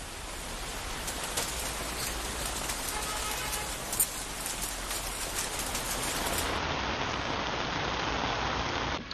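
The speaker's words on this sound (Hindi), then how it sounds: "नोएडा से लेकर गुरुग्राम तक में बारिश का सितम 3 दिन से जारी है।" Steady, heavy rain falls in the Delhi NCR region during days of stormy winter weather, a dense hiss that continues without a break across the whole stretch.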